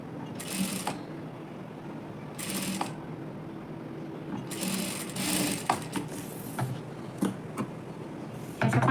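A sewing machine stitches pleats onto a blouse sleeve in several short, close bursts of rapid mechanical whirring, separated by quieter pauses with light handling clicks.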